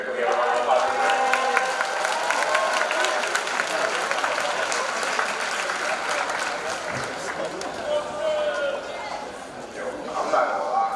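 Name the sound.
audience applause at school assembly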